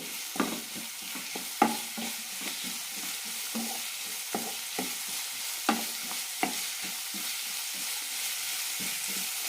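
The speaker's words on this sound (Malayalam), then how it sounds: "ഇഞ്ചി വെളുത്തുള്ളി പേസ്റ്റ് കൂടി ഇടാം ഒരു ടീസ്പൂൺ ഇടുന്നുണ്ട് നന്നായി വഴറ്റിയെടുക്കാം" Ginger garlic paste sautés with onions in a pan for chicken mappas curry. A steady sizzle runs throughout, broken by sharp scraping taps as a spoon stirs the mixture up close.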